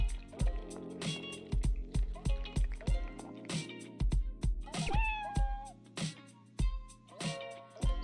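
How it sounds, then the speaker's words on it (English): A kitten in the Dave the Diver video game meows repeatedly in short, close, high calls over light game music and soft dripping sounds. "Hello, Momo's kitten"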